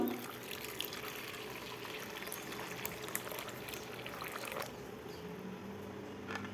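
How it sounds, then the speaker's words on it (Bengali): Hot water pours into a bowl holding salt, a continuous close splashing rush that runs for several seconds before easing off. "বাটিতে লবণ দিয়ে দিলাম পরিমাণ মতো গরম জল"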